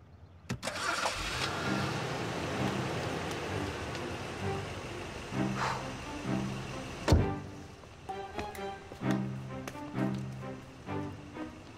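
A car engine cranks through several starter attempts, sputtering and catching, then finally fires and settles into a rough idle with uneven surges.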